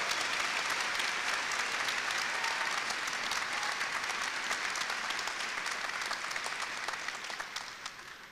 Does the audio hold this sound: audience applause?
yes